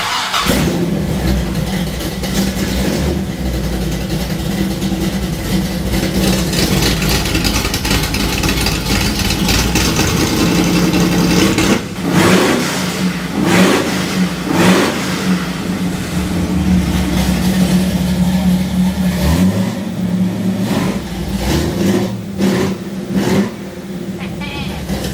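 A car called The Vulture revs its engine through open electric exhaust cutouts, loud and sustained, with deep rumbling surges and a few sharp throttle blips in the middle, heard up close alongside some talking.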